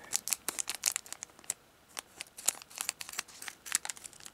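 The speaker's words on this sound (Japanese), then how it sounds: "ハサミでちょっと切ってですね" Scissors cut open the plastic wrapper of a snack card package, giving close, quiet crinkling and snipping sounds in irregular short bursts.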